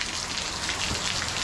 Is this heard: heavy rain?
yes